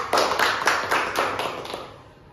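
Short round of applause for a participant during a group activity therapy session, about seven or eight rhythmic claps from a small group, fading toward the end.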